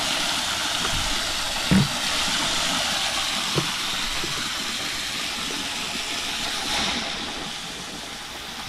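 Strong flowing water rushing steadily from a small stream or outflow at a crayfish pond, a continuous broadband wash with a few faint knocks and no talking.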